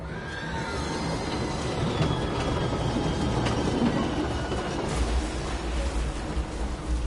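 A train rolls steadily in the video game Control, a continuous loud rumble with faint squealing and rattling that runs unbroken throughout, with no talking over it.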